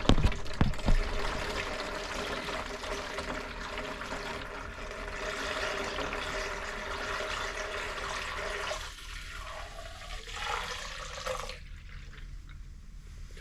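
Distilled water pouring steadily into a half-full plastic jug of antifreeze coolant, a continuous close gurgling stream that thins near the end and stops.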